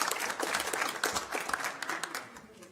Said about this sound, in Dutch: Berber en Nienke, jou eens een applaus.